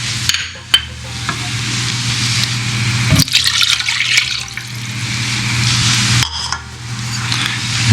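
Butter, water, salt and cinnamon stirred in a heavy saucepan as the butter melts and heats toward a boil for churro dough, giving a steady, loud close sizzle and bubbling with a few sharp knocks of the spoon against the pan.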